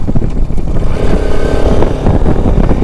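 A motorcycle is ridden on a road in Tripura and shifted into fourth gear, its engine droning loud and close with a steady rising pitch and some clattering under the ride.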